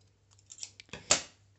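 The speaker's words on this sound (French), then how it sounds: "Je découpe tout ce qui dépasse" Scissors cut paper for a Christmas album, a few quiet, close snips with one sharper cut near the end.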